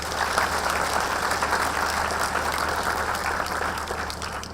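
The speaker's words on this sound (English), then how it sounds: "Can we give them a big round of applause?" Audience at the Eskom Expo for Young Scientists special awards ceremony applauding, a dense, even wash of many hands clapping in a large room, sustained at steady loudness without pause.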